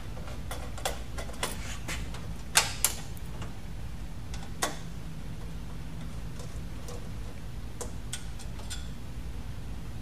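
Phillips No. 2 screwdriver working Phillips screws on a relay chassis, giving scattered faint ticks and clicks over steady low hum, with a few sharper clicks standing out.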